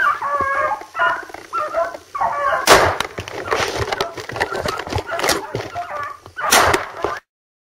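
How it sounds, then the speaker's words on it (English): A hunting dog bays and barks in bursts from a short distance while chasing a rabbit through Newfoundland brush, with rustling and cracking of wood and twigs mixed in. "by the sounds of it, the dog's drawn another one."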